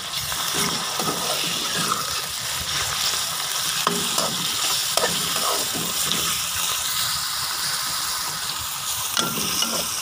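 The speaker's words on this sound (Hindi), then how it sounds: "बहुत ज़्यादा इसको फ्राई नहीं करना। हल्का फ्राई करना है।" Capsicum (bell pepper) fries lightly in a pan for spicy chicken spaghetti, a continuous close sizzle with scraping stirs throughout, no speech.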